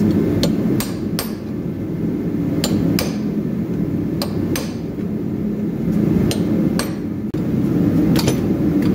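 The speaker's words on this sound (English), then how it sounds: "you want to take a chisel and just go around the edges and press it in a little bit." Hammer striking a chisel around the edges of an old wheel bearing seal on a 1984 Mercedes 300SD, a dozen sharp metallic blows in uneven pairs over a steady loud workshop rumble.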